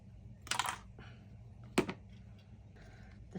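Cutters snip through memory wire for a beaded bracelet: two short, crisp clicks about a second apart, close and fairly quiet over a soft room background.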